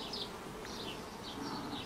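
Honeybees hum around the hive entrances of an apiary on a hot day, a soft continuous drone with individual buzzing passes drifting in and out, faint and fairly close, no talk.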